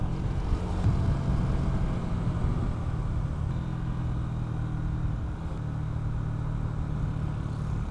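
A Honda Winner X motorcycle rides along the Marilaque Highway, its engine and muffler giving a steady, loud low rumble with continuous wind and road noise, no voices heard.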